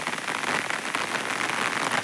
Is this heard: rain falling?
yes